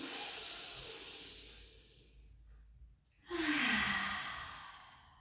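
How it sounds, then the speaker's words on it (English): Deep breathing during a pilates rehab class: a long airy exhale fades out, then a brief pause, then a strong breath with a slight voiced sigh, close and alone without talk. "Try and take really deep breaths."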